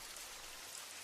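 Soft, even rainfall hissing steadily on surfaces at night, a faint uniform wash of drops with no voices or other sounds.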